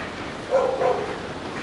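A couple of dogs bark in the distance at an abandoned coal factory in China, short yaps over a steady background hiss.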